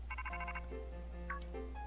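A phone ringtone from the video game Pokémon Violet plays as a short melodic electronic ring, with a run of bright repeated tones followed by a softer chiming phrase, clear and close.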